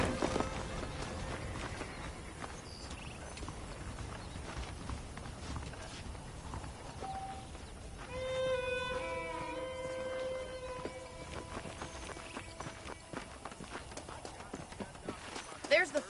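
Horse hooves clip-clop steadily in the Red Dead Redemption video game as horses move along at a ranch. Game dialogue, ambient sounds and a few tonal effects run over the quiet, continuous hoofbeats.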